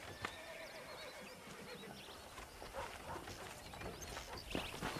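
A horse whinnies and neighs in the video game Red Dead Redemption, over steady outdoor ambience, with hooves clip-clopping and faint birdsong in the background.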